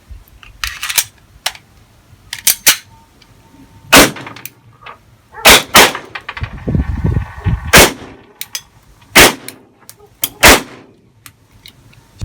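A Blow F92 blank pistol in a special colour fires a series of sharp, loud bangs at close range, about ten irregularly spaced shots with short gaps and faint mechanical clicks between them.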